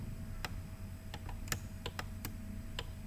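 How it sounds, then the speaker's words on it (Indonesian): Someone presses keys on a computer keyboard while working in Java during a programming lesson. The key presses come as a string of sharp, close clicks at an irregular pace over a steady low hum, with no talking. "tekan tombol shift pada keyboard kalau mau bersamaan"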